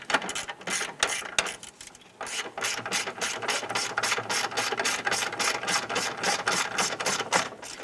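A hand ratchet clicks rapidly and steadily as it snugs down a nut on the coolant reservoir tank of a 2008-2013 Nissan Rogue, close and crisp, with a short pause before the regular clicking resumes.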